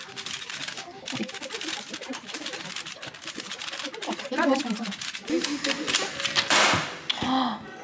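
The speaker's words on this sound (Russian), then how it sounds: "Мы с Ксюшей будем играть. Кубик Рубик" Rapid plastic clicks and clacks from a twisting puzzle cube, dense and close, continuing steadily with some louder bursts.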